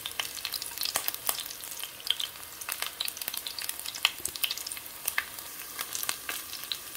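Onion frying in a pan for combas guisadas, a steady crackling sizzle with scattered sharp pops and occasional stirring, fairly close and moderately quiet, with no talking.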